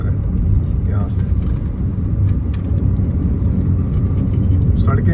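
A car drives along National Highway 48 on a road trip to Mahabaleshwar. A steady, loud road rumble and engine drone continue throughout, with a couple of brief, faint higher chirps on top.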